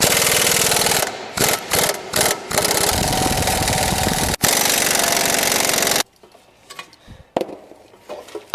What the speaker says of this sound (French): et on retire les supports moteurs.